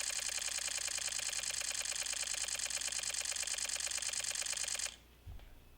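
A Canon PowerShot G16 fires a high-speed burst, a rapid, even stream of shutter clicks running for about five seconds. It stops abruptly and leaves a soft thump behind.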